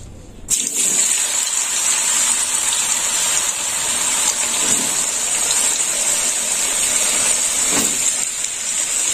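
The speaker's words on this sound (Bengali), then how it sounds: "তেল গরম হয়ে গেছে, আলুটা এবার ভেজে নেব।" Long strips of potato, about 800 grams, sizzle in hot oil with a loud, steady, close hiss. A couple of faint, soft knocks sound partway through, and no one speaks.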